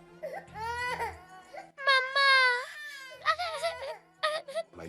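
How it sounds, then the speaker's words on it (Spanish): A young girl who has suddenly woken cries and screams close up, rising wails and sobbing breaking in bursts, loud and alone. "Mi hija se despertó de repente gritando, como si algo hubiera pasado."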